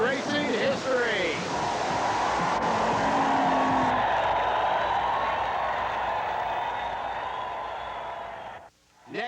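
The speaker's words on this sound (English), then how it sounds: "A 4-wheel drive funny car. Ivo getting ready to go on the starting line, pulling up carefully, getting ready to drive away. Burning rubber into drag racing history." A four-wheel drive alcohol funny car at a drag strip does a burnout, spinning its tires in a loud, sustained roar and hiss that holds steady for several seconds before cutting off abruptly near the end.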